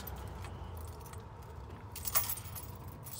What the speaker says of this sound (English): And I forgot to bring out my wife's keys.